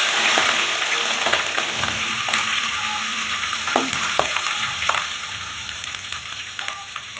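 Green chilies sputter in hot oil with mustard seeds, urad dal and fenugreek, a loud, steady, close sizzle like heavy rain, punctuated by occasional clicks and scrapes of a stirring spoon.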